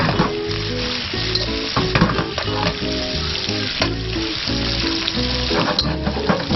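Small batches of squid frying in hot oil over an outdoor cooking setup, a loud continuous crackling sizzle with sharp pops and stirring clatter, close and steady throughout.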